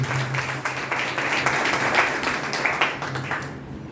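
A church congregation at an anniversary prayer meeting claps together in a steady, dense burst of applause lasting several seconds, with a faint murmur of voices underneath.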